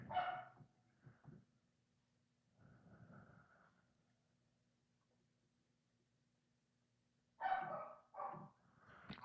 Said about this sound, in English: Do y'all hear my dog barking in the background?